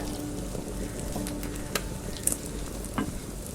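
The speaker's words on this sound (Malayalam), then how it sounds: "അതിലേക്ക് സവാളയും അതുപോലെ തന്നെ ക്യാരറ്റും ഒരുമിച്ച് തന്നെ ഇട്ട് കൊടുത്തിട്ട് ഒന്ന് വഴറ്റിയെടുക്കുകയാണ്." Chopped onion and carrot sautéing together in a hot pan, a steady soft sizzle with a few brief stirring clicks, no voices.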